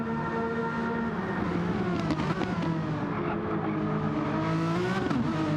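Race car at Laguna Seca in a racing video game, an engine revving hard and rising in pitch, with quick upshifts that drop the tone before it climbs again, loud and close.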